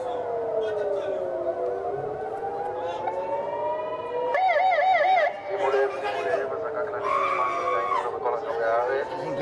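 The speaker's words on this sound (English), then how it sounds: "sirens and warnings of possible rocket attacks continue to blare in Tel Aviv, in Israel" Wailing air raid sirens warn of rocket attacks in Tel Aviv, Israel, several rising and falling tones overlapping loudly and continuously, with crowd chatter underneath.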